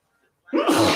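A single close, sharp human sneeze bursts out abruptly after half a second of near silence and ends the short stretch loudly.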